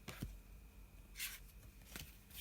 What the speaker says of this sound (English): I'm going to have a good old shuffle of these